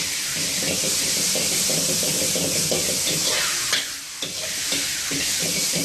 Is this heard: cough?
no